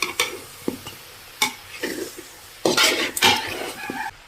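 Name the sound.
stirring avial with green chillies in a pot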